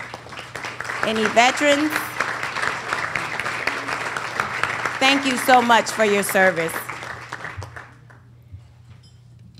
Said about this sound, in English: Would you please stand for a round of applause?